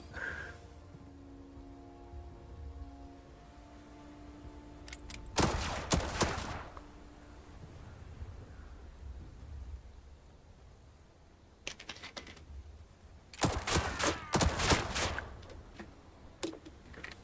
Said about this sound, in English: we got our Overwatch machine gun